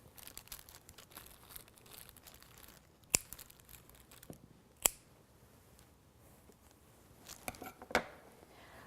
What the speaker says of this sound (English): Just snip them up with a pair of scissors.